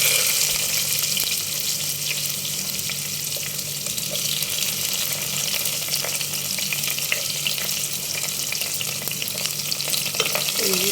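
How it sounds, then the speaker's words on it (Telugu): Onions and green chillies frying in a pan, a loud, dense, continuous sizzle with faint stirring, heard up close and alone throughout. "ఇవి బాగా ఎర్రగా వేయించాక ఫ్రై చేసుకోవాలి ఫ్రెండ్స్"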